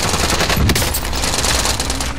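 Machine gun fire in the video game Warzone Cold War, a loud, close, unbroken stream of rapid shots that lasts the whole time, with no talking over it.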